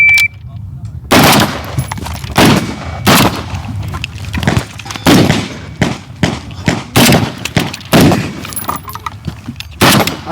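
Loud rapid gunfire from rifles, including an AK, during a prone shooting challenge, with bursts of sharp cracking shots in uneven clusters and short gaps between them.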